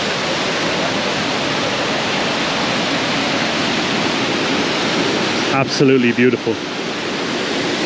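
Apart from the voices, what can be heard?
natural waterfall in the mountains near Trabzon, Turkey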